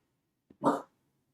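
A single short dog bark, preceded by a faint click, in an otherwise quiet indoor space.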